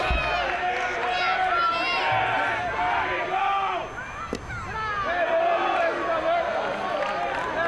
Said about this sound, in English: Some groans from the crowd, but the count goes full